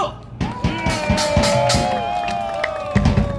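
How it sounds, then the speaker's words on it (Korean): Brief scattered clapping and crowd noise at a political press conference, a few loud claps over a murmur of voices with a raised voice calling out. "박수"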